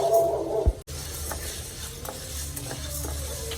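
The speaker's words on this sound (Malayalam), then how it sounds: "കരിഞ്ഞു പോവാതെ നമുക്ക് വറുത്തെടുക്കാം" A spoon scrapes and rattles through dry urad dal being roasted in a pan over a low flame, with a steady low background hum and a few soft scrapes; no one speaks.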